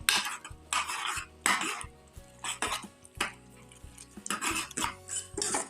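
Peas masala with tomatoes gets stirred in a pot, sharp metal spoon scrapes and clanks in uneven bursts against the pot over a faint background hum.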